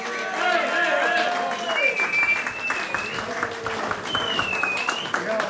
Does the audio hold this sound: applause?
yes